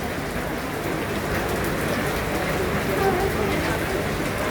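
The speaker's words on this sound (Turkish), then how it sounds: "Öyle şiddetli yağmur." Heavy rain pours down steadily and close by, a dense, continuous hiss of drops hitting surfaces with no break.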